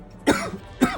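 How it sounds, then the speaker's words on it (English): Two sharp, close coughs from a man, spaced about half a second apart, each a short harsh burst. "my voice makes me cough"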